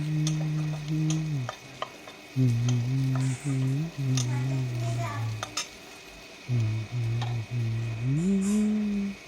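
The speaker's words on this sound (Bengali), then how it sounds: "পেঁয়াজটা আমার ভাজা হয়ে গেছে" Onions fry and get stirred in a pan for a red amaranth dish, a steady sizzle with occasional utensil clinks, under a recurring droning tonal hum that starts and stops.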